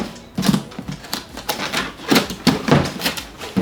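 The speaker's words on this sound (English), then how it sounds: "Open up the box." A cardboard box for a Team Associated Rival MT10 RC monster truck is pulled open after its tape is cut, producing a close series of crisp rustling, crackling bursts in an uneven rhythm.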